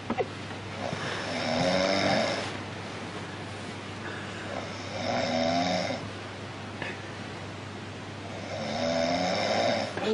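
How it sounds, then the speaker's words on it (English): A person snores in slow, regular cycles, with three long rasping breaths spaced a few seconds apart over a low steady hum, close and moderately loud with no talking. "trying to stop me snoring"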